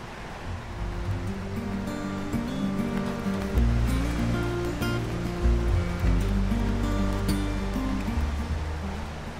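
Surf rolls onto secluded Samindar beach on the Konkan coast, a fuller, surging wash with a few louder breaks, layered under steady musical tones and no speech.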